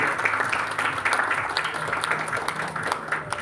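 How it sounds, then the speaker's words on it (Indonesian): Audience applause at an Indonesian marketing event, a steady wash of many hands clapping throughout at moderate loudness with a faint murmur of voices underneath. "Boleh tepuk tangan dulu mungkin teman-teman semuanya."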